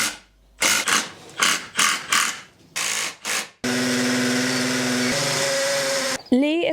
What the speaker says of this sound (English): You can probably hear him drilling it in the background.